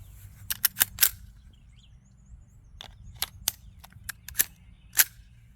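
Unsuppressed AR .22 LR rifle firing outdoors, sharp cracking shots in quick bursts, first four close together, then several more spaced out, loud and alone.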